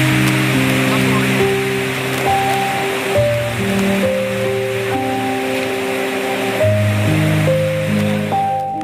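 The swollen Kalladi river rushes in flood, a loud, continuous roar of churning water filling the whole stretch, with steady tonal music layered over it.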